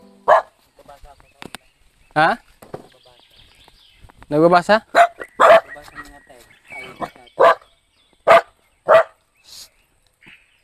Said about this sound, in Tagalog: Aso ko.